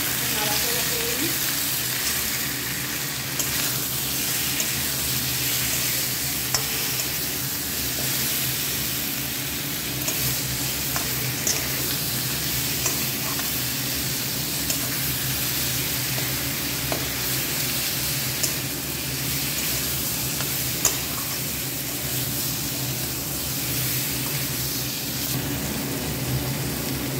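Prawn curry with potatoes, salt and turmeric sizzles steadily in a pan while it is stirred, a dense, even frying hiss that lasts throughout with small scattered clicks from the spoon.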